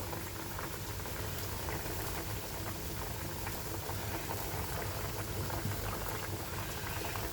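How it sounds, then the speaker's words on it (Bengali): Soft, steady bubbling of a fish curry with koi fish, taro and potato boiling in a pot, a continuous low simmer heard close with no voices. "আমার ঝোলটা প্রায় সিদ্ধ হয়ে ফুটে এসেছে"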